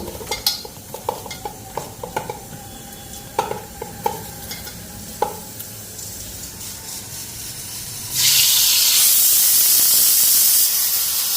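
Eggplant fries in plenty of oil, giving a soft steady sizzle broken by sharp stirring clinks, then a sudden loud hiss as more goes into the hot pan. No one speaks.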